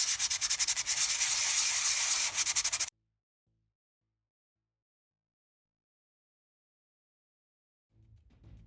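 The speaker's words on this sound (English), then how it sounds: "take some sandpaper and just rough up that surface a little bit" Sandpaper roughs up a smooth resin surface on a forest scenic base, a close, loud, rhythmic scratching of rapid strokes that stops abruptly, followed by silence and a faint low rustle near the end.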